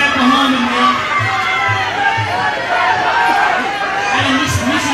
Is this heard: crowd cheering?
yes